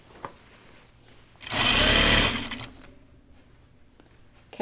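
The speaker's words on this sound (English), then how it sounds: "I'm going to sew it from the inside of the circle so it's a little easier" A sewing machine stitches a fabric seam for pajama bottoms in one short, loud burst of about a second. Its rapid whirring buzz rises quickly, holds, then fades, with quiet room sound before and after.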